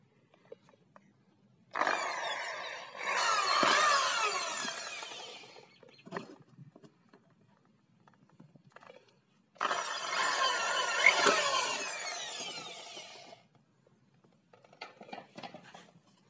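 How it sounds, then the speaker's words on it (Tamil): A power drill with a 5 or 6 mm bit bores holes in a PVC pipe for a lamp, two loud whirring bursts of a few seconds each separated by quiet handling clicks. "ஒரு 5 mm இல்லை ஒரு 6 போட்டு ட்ரில் பண்ணலாம்."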